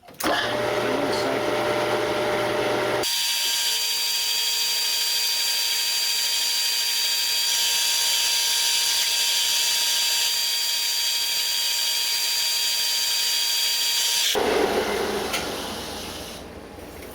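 A metal lathe turns a titanium wedding ring at about 460 RPM with a slight shimmy, producing a steady, loud mechanical whine with a sustained tone for roughly eleven seconds before it winds down.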